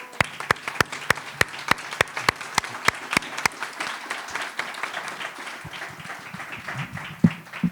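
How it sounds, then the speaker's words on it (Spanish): Audience applause at a book presentation for an institute: a run of sharp, evenly spaced claps stands out at first, then a looser, quieter patter of many hands continues, with a few louder claps near the end. "un aplauso fuerte para el instituto"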